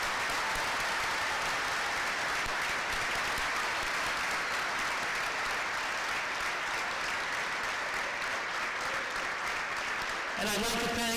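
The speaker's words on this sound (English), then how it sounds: "I would also like to thank all our veterans by giving them one more round of applause for their service and sacrifice." A school assembly audience gives veterans a sustained round of applause at a war and remembrance event, with dense, even clapping filling the hall throughout and a brief burst of louder, sharper clapping at the very end.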